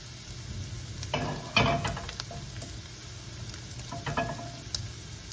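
Eggplant added to a pan of ground pork sizzles softly, with a few louder scraping and stirring bursts over a low, steady frying hiss and no talk.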